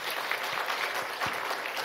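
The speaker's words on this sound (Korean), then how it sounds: "우리 하나님께 영광의 박수 올리겠습니다." A church congregation breaks into brief applause, a steady wash of many hands clapping together with no break, fairly loud and filling the room.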